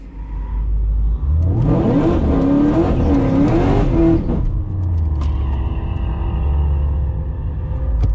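Cadillac CTS-V launching on a drag strip: the engine revs hard and climbs through a loud, close roar for about three seconds, then drops to a lower, steady drone as the car pulls away.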